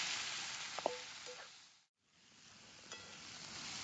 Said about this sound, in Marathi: मी बारीक चिरले आणि आता तळून घेणार आहे चांगलं